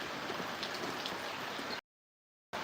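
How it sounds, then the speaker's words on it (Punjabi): Steady, dense rainfall in a Punjab village hisses evenly, then drops into a short silence before resuming. "ਸਵੇਰ ਤੋਂ ਬਾਰਿਸ਼ ਹੋ ਰਹੀ ਆ"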